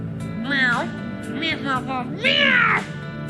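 A small cat meows three times in the game Vampire: The Masquerade - Bloodlines 2, the calls close and clear, the last one longest and loudest.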